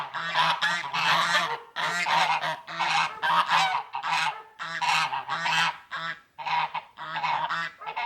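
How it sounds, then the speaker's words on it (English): Geese honk loudly and repeatedly in a boggy, watery landscape, a close flock trumpeting in rapid overlapping bursts separated by short gaps, with no talking. "trumpeted away by these insane goose-like animals, which may, on reflection,"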